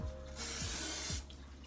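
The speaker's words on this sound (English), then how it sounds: "And I'm going to spray a non-stick spray again on top." Non-stick cooking spray hisses onto dumplings in a home kitchen, one steady close burst of about a second, with faint mechanical clicks before and after.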